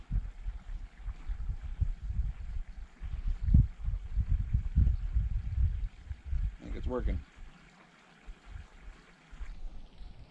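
Full-volume water gushing from a garden hose with the spray nozzle removed, a rushing, splashing flow under a voice that cuts out near the end, leaving a quieter trickle.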